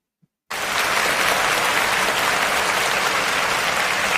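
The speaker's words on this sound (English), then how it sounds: "Let's give her a round of applause because she deserves it" Audience applause bursts in after a moment of silence and holds as a dense, even wash of clapping to the end.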